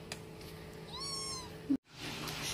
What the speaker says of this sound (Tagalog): Sila ang mga alaga kong pusa.